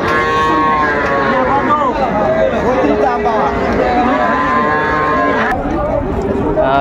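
Young bull calves at the crowded Raniganj cattle market in Dinajpur give drawn-out moos over a constant din of buyers and sellers talking nearby.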